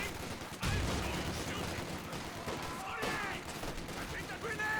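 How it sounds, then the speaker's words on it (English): Dense gunfire and grenade blasts from a Company of Heroes 2 battle, with frag and rifle grenades bursting amid continuous small-arms fire, loud and cluttered throughout while a voice talks over it. "Bar squads trying to throw a frag grenade onto them."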